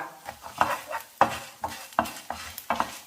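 Fenugreek seeds going into hot oil over a medium-low flame as a rasam tempering begins: a series of sharp scraping stirs against the pan at an irregular rhythm, each one trailed by a soft sizzle, close and fairly quiet.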